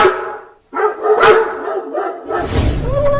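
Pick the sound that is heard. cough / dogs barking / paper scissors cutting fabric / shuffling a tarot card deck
dogs barking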